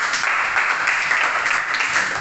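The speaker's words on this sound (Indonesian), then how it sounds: "Tepuk tangan yang meriah untuk Feli." Classroom of primary school pupils clapping for a classmate, a steady, dense patter of many small hands close by, sustained evenly throughout with no voices on top.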